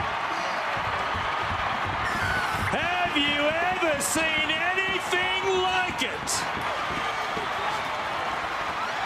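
A rugby league crowd at a 2010 Eels versus Panthers match roars and applauds in a dense, continuous swell of cheering, while an excited commentator talks over the noise.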